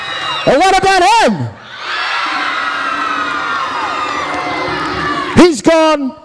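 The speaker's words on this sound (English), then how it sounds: "So I think you got the loudest applause." Crowd at a Pasifika By Nature 2010 singing competition cheers and shouts loudly for a contestant in a sustained burst, framed by amplified voices of a host talking over it at the start and end.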